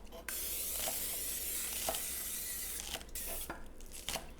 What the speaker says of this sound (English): And she's going to spray that really well.